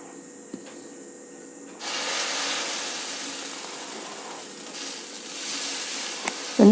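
Dosa batter sizzling and hissing on a hot cast-iron griddle, a steady broad hiss that swells after a quiet start and holds at moderate loudness, with a faint clink near the end.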